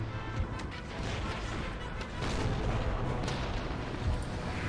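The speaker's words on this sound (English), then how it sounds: "You're probably gonna get mowed down by the cannons on the fort." Cannons on a fort fire in Empire Total War, a dense, continuous wash of battle noise with repeated booms and crashes layered over one another at moderate volume.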